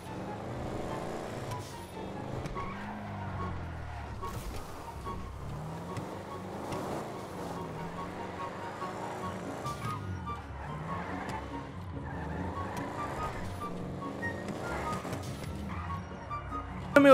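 A Dodge Challenger engine in GTA 5 drones and rises and falls in pitch as the car accelerates and eases off, a continuous moderately loud hum with no voices over it.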